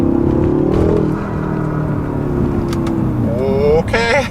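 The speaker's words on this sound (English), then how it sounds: "Let's do a little roll into the throttle." A Dinan-tuned 2016 BMW M5 accelerates hard in second gear, its engine note swelling loud and close for about a second, then holding a steady drone before a rising whine near the end, with some talk mixed in.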